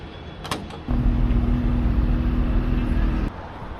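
Traffic on a city street in Ulaanbaatar, a steady hum of engines heard from inside a vehicle, with a sustained electric whine and a mechanical clunk partway through.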